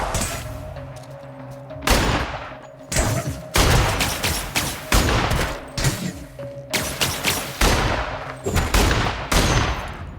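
Gunfire in The Outer Worlds role-playing shooter, loud close bursts of rapid shots and heavy booms coming in repeated volleys separated by brief quiet gaps, with no talk.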